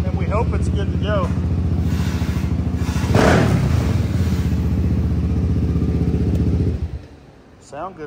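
A Honda 400EX engine swapped into a Polaris RZR 170 runs close by at a steady idle with a rough throbbing pulse and clatter, rising briefly, then shuts off near the end, with people talking over it.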